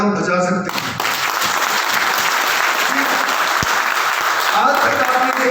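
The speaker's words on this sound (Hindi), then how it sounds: "अगर अच्छा अमाउंट हो तो तालियां बजा सकते हैं।" Loud, sustained applause from a seminar audience in Mumbai fills the room, a dense wash of clapping that runs steadily from start to finish after a brief opening of voice.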